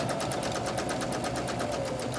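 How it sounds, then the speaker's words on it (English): A sewing machine stitches a quarter-inch seam on a quilt block, its needle beating in a fast, perfectly regular rhythm over a steady motor hum, close and continuous with no talk. "So we're just sewing a 1/4 inch or a little less on either side."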